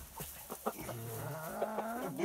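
Hens cluck and call close by during a poultry treatment session, several short clucks and a drawn-out vocalization over quiet farmyard background.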